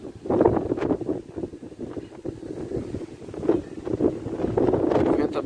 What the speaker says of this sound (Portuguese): Venta bastante, galera, nessa época